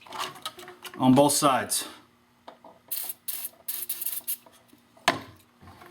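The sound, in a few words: spraying silicone lubricant onto radiator hose spring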